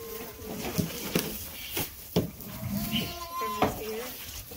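Goats and sheep, including baby goats, bleat in short broken calls on a farm, mixed with a few bird chirps, while people talk close by throughout.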